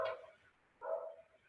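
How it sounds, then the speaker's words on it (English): A dog at home gives two short barks about a second apart, fairly close and moderately loud, with quiet between them. "I apologize for my dog barking"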